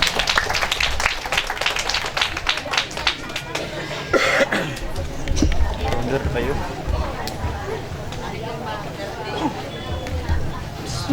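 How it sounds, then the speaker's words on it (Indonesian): A crowd at a Qur'an completion ceremony at a Quran school in Kopang claps in a brief, scattered burst, then settles into murmuring, coughs and shuffling as people talk nearby. "Boleh tepuk tangan"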